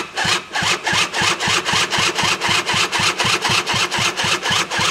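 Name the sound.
two-stroke engine being cranked to start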